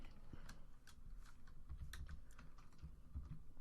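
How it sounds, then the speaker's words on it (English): Fast, irregular clicks of one-handed typing on a computer keyboard while building in Minecraft, soft close-up keystrokes in quick uneven bursts with brief pauses, quiet and without talk. "Typing with one hand is not very easy"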